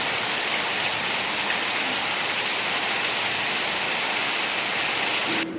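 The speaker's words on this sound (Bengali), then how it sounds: "বিহারে বৃষ্টি হচ্ছে মুসলধারে সব অন্ধকার একদম" A torrential downpour roars steadily onto a dry field, a broad, unbroken wash of rain hissing on surfaces, ending abruptly near the close.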